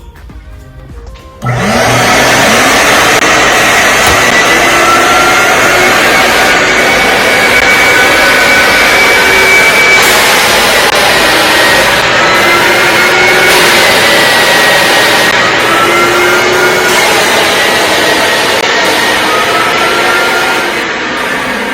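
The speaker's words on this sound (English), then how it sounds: "You're going to come back to the vacuum. You're going to go ahead and kick it on." Industrial vacuum switching on during garage floor grinding for an epoxy coating, a sudden loud, steady roaring whine that holds at full strength throughout, with no talk.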